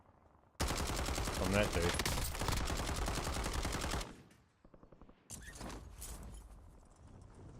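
Rapid, loud gunfire rattles in a dense continuous burst in an online shooter game, followed by quieter scattered shots, as a player talks briefly over it.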